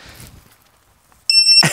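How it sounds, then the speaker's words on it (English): A ViFly Finder drone beeper, a tiny buzzer on a quadcopter, gives a sudden piercing high-pitched tone that starts after a quiet pause and holds at full loudness, very close. "that beeper is much louder than any of the standard buzzers that you can buy for quads"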